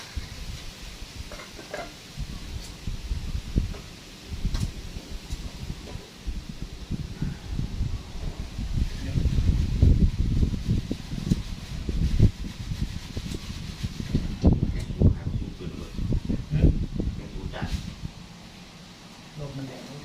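Strong wind gusts buffet the microphone outdoors, with rumbling bursts and rustling that swell and fade throughout, under a voice speaking at times.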